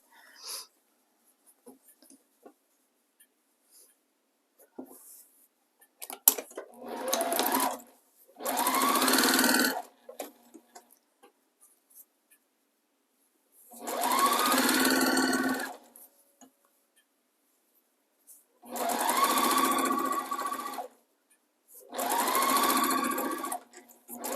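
Sewing machine chain piecing quilt blocks runs in five loud, close bursts of rapid stitching, each lasting one to two seconds, separated by quiet pauses with faint handling clicks.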